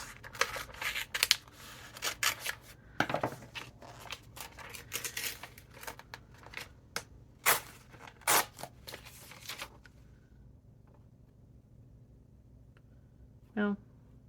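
Scissors cutting through magazine pages, a run of sharp close snips and paper rustles that thin out to a few scattered clicks and a short voice near the end.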